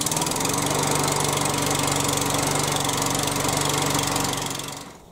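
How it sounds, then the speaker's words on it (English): A Hyundai HYM430SPER self-propelled electric-start roller petrol lawnmower engine roars steadily at close range with a rough, pulsing drone, then winds down and cuts out at the end. "I can manually start the lawnmower"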